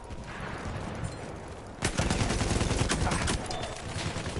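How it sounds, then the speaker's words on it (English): Machine gun fire in a team domination match of a shooter video game: rapid automatic bursts break out about two seconds in and keep rattling loudly as a dense, continuous volley. "There's a machine gun."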